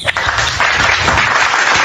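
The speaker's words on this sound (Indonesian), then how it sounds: "Ini yang tepuk tangan siapa?" A debate audience bursts into dense, loud clapping that carries steadily for a couple of seconds.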